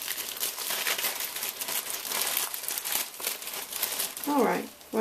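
Package wrapping being torn and crinkled open by hand, close up, with continuous papery rustling and crackling, and a voice speaking briefly near the end.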